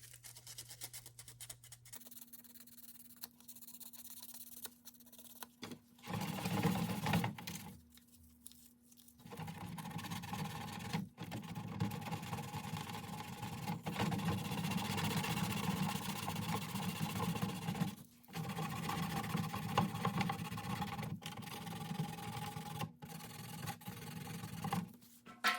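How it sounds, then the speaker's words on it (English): Steady abrasive rasping of sanding runs for long stretches with brief pauses, close by, over a low motor-like hum. "Just sanding, make sure everything's nice and clean."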